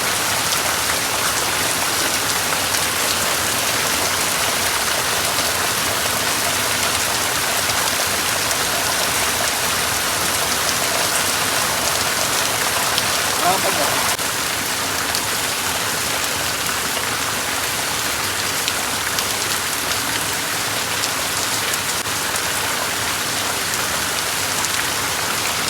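Steady heavy rain falls outdoors on the second day of sowing-season monsoon rain, a dense continuous hiss that stays loud and even throughout with no voices.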